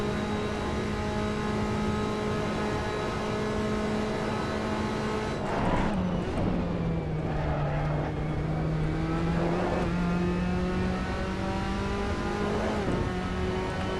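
Tatuus Formula Abarth race car in Assetto Corsa on a practice run at Imola, a steady high-pitched engine whine holding revs, then dipping and climbing again through gear changes, loud and close throughout.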